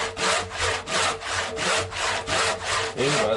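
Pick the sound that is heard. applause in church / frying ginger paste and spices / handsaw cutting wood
handsaw cutting wood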